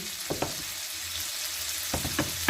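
Two tablespoons of flour sizzling in hot oil for a béchamel sauce, a soft steady fry with a few sharp scrapes and taps from stirring, close and alone.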